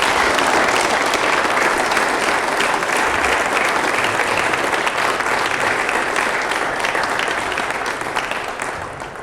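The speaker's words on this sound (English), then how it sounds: "give the two of them a huge big round of applause" Loud, sustained applause from an audience at a four-wall handball championship senior open singles final, dense clapping filling the whole stretch and tapering slightly at the end.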